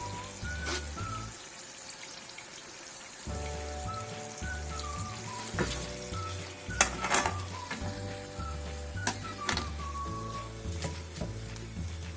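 Potato-filled samosas deep-fry in a pan of hot oil, a close, steady bubbling sizzle like rain, with scattered crackles and stirring knocks throughout and no talking.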